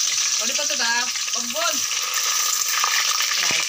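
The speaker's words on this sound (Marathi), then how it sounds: "राई टाकले, राई कढीपत्ता टाकलाय आता तेलामध्ये." Garlic, mustard seeds and curry leaves fry in oil in a pot on a wood-fired stove, with someone speaking briefly before the steady crackling sizzle continues alone.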